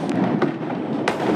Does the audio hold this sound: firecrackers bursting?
yes